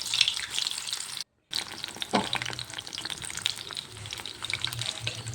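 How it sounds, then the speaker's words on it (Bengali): Battered cauliflower pakora frying in hot oil, a bright crackling sizzle with a brief cut near the start and occasional clinks of stirring, no voices. "তেলের মধ্যে দিয়ে দিলাম।"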